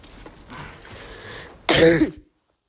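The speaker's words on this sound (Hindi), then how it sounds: "वो थोड़ी खांसी भाई" A short, harsh cough near the microphone while gaming on a PS5 follows a moment of low murmuring, then silence.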